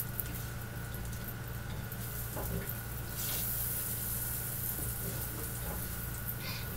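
A stick and a half of butter melts in a pan, giving a steady close hiss with faint bubbling crackle throughout.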